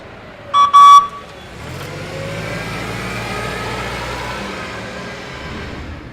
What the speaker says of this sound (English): be sure to honk the horn.